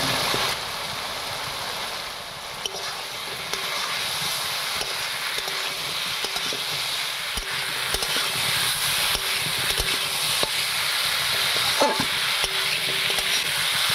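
Cut moringa drumsticks sautéing in a pan for a home-style fish curry with potato and lentil bori: a continuous close sizzle with occasional soft clicks and scrapes of stirring.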